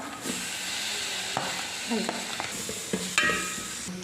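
Onions frying in a pan for Kerala-style chicken curry being stirred, a steady close sizzle with a few spoon scrapes and soft clinks throughout.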